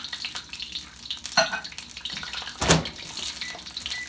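Onions cut into noodle-like strands frying in a pan for fried cabbage: a close, continuous sizzle with a couple of clanks of utensil against pan, no voices.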